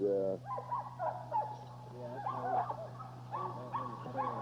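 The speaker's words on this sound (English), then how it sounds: "a couple of the other dogs we saw earlier" Dogs in a breeding yard give soft whimpers and yips, the whines rising and falling in short bursts over a low steady hum, fairly faint and close with no talking.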